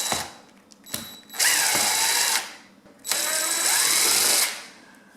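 Battery drill unscrewing the screws from a plastic table fan housing, two sustained whirring bursts of about a second each with brief pauses and small clicks between them, close and loud, with no talking.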